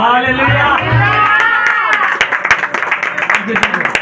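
Church congregation at a Sunday meeting clapping loudly, starting under a voice and a swell of shouting, then breaking into sharp, rapid rhythmic handclaps close by.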